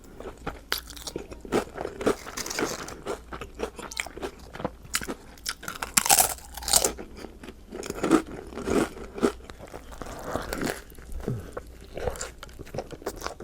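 Close, crisp bites and crunchy chewing of a turkey sandwich with cheese, lettuce, red onion, pickles and tomato, alongside chips, repeating in irregular bursts of crackly mastication with no talking.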